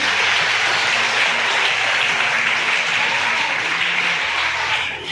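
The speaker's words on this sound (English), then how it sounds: "Big round of applause for Monodin." A school audience gives loud, continuous applause to a quiz team captain, a close, dense clatter of many hands that fades slightly at the very end.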